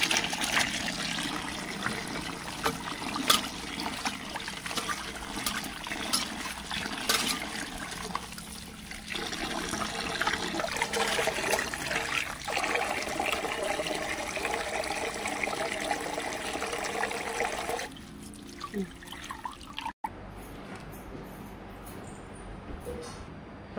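Water pours steadily while freshly picked cashew fruits are washed, a continuous splashing, trickling flow that cuts off abruptly near the end.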